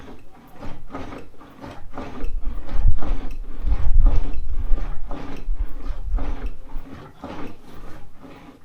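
A fender roller's handle is turned slowly in half turns, producing rhythmic mechanical clicking and creaking with a low, grinding rumble. The sound is close and fairly loud.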